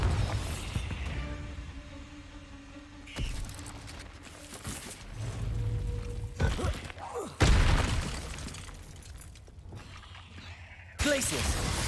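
Bombarda blasting spell cast in Hogwarts Legacy: several sharp blasts and crashing impacts with shattering debris, mixed with mechanical clatter and talk, loud and close.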